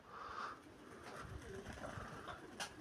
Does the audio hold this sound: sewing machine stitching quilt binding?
no